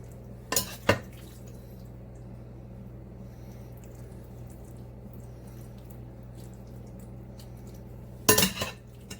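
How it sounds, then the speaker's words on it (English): Chicken and cornbread mixture from a Jiffy mix spooned into a casserole dish, two quick scraping clinks of the spoon near the start and another clatter near the end, with a low steady room hum in between. "So we're going to spoon some of this mixture in."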